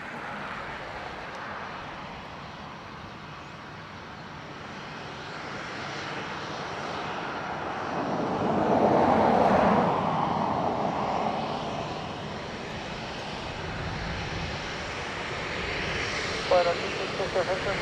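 A Ryanair airliner on landing at Dublin Airport, its engine roar rising and falling gradually at a moderate distance beneath steady background noise.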